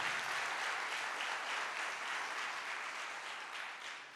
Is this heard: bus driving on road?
no